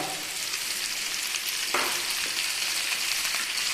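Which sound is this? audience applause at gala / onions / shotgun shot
onions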